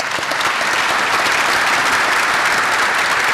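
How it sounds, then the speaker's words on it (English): An audience applauds a military panel discussion on the profession of arms, steady, loud, continuous clapping filling the room throughout. "a round of applause for our panel."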